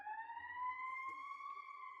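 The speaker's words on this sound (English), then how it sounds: "like an ambulance or fire truck went by" An ambulance or fire truck siren passes nearby with a steady, loud wail, its smooth rising pitch ringing out alone, while a low rumble of traffic sits beneath.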